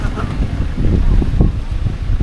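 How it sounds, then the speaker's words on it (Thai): Wind gusts by the Mekong River at a temple in Bueng Kan, a steady, rumbling buffet against the microphone that stays loud and close throughout. "ลมเย็นจังเลย"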